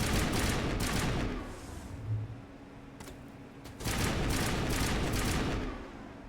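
Rapid bursts of gunfire from a Mass Effect firefight, loud dense volleys at the start and again toward the end with a quieter lull in between and a few isolated sharp shots.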